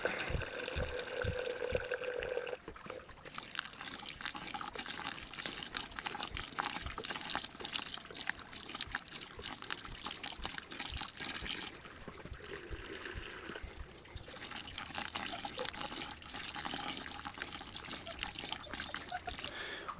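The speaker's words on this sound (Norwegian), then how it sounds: "Så det egentlig bare å tappe 1 liter oppi maltrøret og gjenta." Sparge water pours into the malt pipe of an all-grain brewing setup during an amber ale brew day, a steady close splashing stream that runs almost continuously with a couple of brief breaks.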